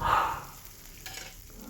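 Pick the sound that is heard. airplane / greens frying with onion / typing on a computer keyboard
greens frying with onion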